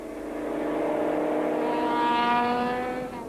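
Production-class rally cars at a tarmac rally race past, an engine revving up and rising in pitch as it approaches, loud for a few seconds before fading.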